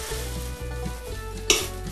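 Appam batter poured into a hot appachatti pan, giving a steady close sizzle with a brief sharper splash of frying near the end, no talk.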